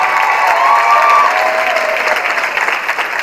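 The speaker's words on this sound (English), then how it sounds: "Give him a round of applause." A high school audience claps loudly for the principal at an academic celebration, a full, dense round of applause with a few whoops early on, steady for about three seconds before thinning slightly.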